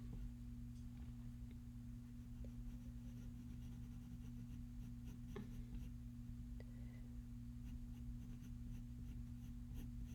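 Pencil scratches and rubs steadily across paper while a face is drawn and shaded, a soft continuous scratching under a low steady hum, with no talking.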